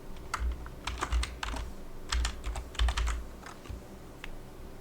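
Fingers tap on a computer keyboard in short irregular bursts of clicky keystrokes with brief pauses, close and fairly quiet against a faint steady hum.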